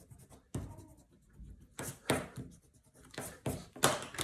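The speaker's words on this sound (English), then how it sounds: "I run it across. And then I'm going to erase these lines." A rubber eraser scrubs pencil lines off paper while a geometric design is drawn, coming as several short, close, scratchy rubbing bursts with quiet pauses between them.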